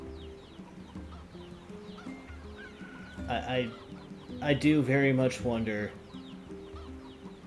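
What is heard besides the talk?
chickens clucking in the video game NieR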